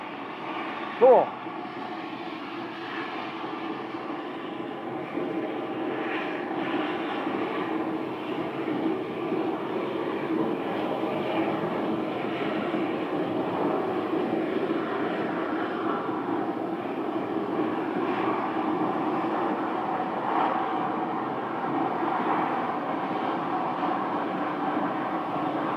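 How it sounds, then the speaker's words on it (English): A parked airplane being backed into a hangar at Scottsdale, a steady low mechanical rumble with a brief thump near the start, and a voice speaking briefly over it. "this plane is going in the hangar"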